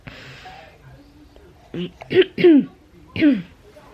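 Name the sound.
coughing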